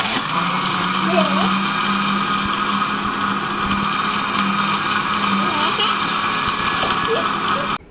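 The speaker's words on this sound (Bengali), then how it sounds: "এখন ব্লেন্ডার করব।" An electric blender runs steadily throughout, a continuous mid-pitched motor whir while a sugar-sweetened mixture is blended, then cuts off abruptly at the very end.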